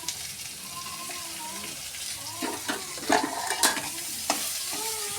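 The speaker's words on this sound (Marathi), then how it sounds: "हा चांगला फ्राय करायचा आहे. लाल होजेपर्यंत त्याला आपण फ्राय करायचं आहे." Onion frying in a small amount of oil for a peas curry, a soft steady sizzle with a few sharper spatula scrapes and stirring clatters near the end.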